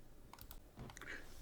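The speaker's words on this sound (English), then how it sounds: "Yep, I'm using a typewriter" A 1944-era typewriter clacks in a short burst of several quick, uneven key strikes, close and moderately loud, with no voices.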